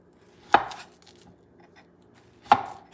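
Two separate knife cuts through ripe, soft black plantains, each a sharp close thud on the board with a brief rustle, spaced about two seconds apart with quiet between.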